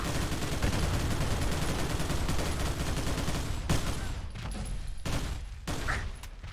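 Sustained, dense automatic gunfire in the modded shooter game Fallout 4 mows down a group of gunners, loud and continuous before breaking into a few scattered bursts at the end.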